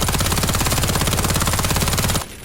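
Sustained rapid automatic fire from the MPA 10 SSTX submachine gun in the Warface shooter game, a dense, loud, evenly paced burst lasting about two seconds before cutting off abruptly into a faint tail.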